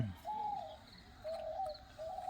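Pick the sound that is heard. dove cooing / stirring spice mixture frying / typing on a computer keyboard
dove cooing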